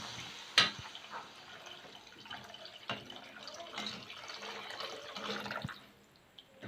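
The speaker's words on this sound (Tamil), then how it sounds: "250 அளவு சேமியாவுக்கு வந்துட்டு 1/2 லிட்டர் தண்ணி வந்து ஆட் பண்ணிக்கலாம்." Water poured into a pan while cooking egg semiya, a soft continuous splashing and trickling with a few sharper drips, fairly close and steady, easing off near the end.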